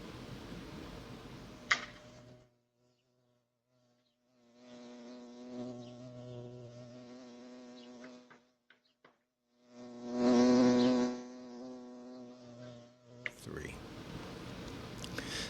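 A bumblebee buzzes right up against a Ring doorbell camera, its droning hum rising and falling in several passes, loudest in a close swell, with outdoor background and brief noises between.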